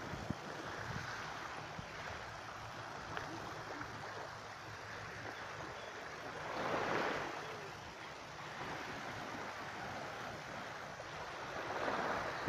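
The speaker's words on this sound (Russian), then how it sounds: "Вот пляж уходит туда." Gentle surf washing onto the long city beach by the Hilton hotel in Hua Hin, Thailand, a faint steady wash of waves with soft swells rising and falling, heard from a distance with light wind.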